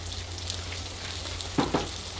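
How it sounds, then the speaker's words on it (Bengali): Frying in a pan for a Sylheti dry fish and potato curry: a steady, soft broadband hiss runs throughout, with two brief louder spatters near the end and no talking. "একটুখানি ভেজে নিব"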